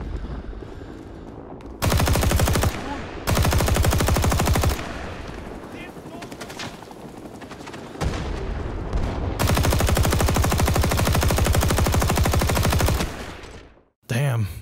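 An M1919A6 machine gun fires in Rising Storm 2 in long, loud sustained bursts with short pauses between them, set over a continuous background of engine and battle noise, with a voice speaking faintly under it.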